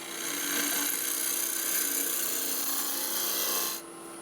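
Lathe tool cutting into a spinning wooden beehive box, a continuous, loud rasping scrape that holds steady for several seconds before easing off at the end.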